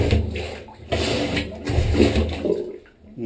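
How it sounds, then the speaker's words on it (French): Rhythmic plunger strokes over a clogged drain, each push bringing a wet gurgle and slosh of water, repeating in uneven bursts at close range. "on va faire un gros appel d'air avec la ventouse au-dessus de la canalisation"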